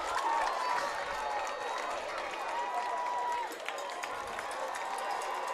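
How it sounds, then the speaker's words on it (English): A packed high school football crowd in a full-house stadium with a lively student section, a steady broad roar of voices and cheering carrying throughout, loud and continuous. "There's the crowd."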